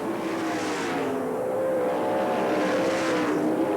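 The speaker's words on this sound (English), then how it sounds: "Cars slowing down in turn 4, trying to limp his way into the pits." Race cars roll through turn 4 at Manzanita Speedway during the 1990 Western World Championship, their engines droning in a steady, slightly wavering blend that holds at a constant loud level with no talk.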